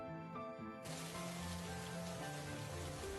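Cartoon rain sound effect: a soft, steady patter of falling rain that suddenly swells into a fuller, continuous wash under a faint background tone.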